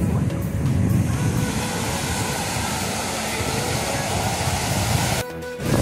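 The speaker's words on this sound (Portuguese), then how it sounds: "Olha como tá forte. Ondas fortes" Strong waves crash on the beach at Porto de Galinhas, a dense, loud, continuous roar of surf that stays steady throughout, then briefly dips near the end.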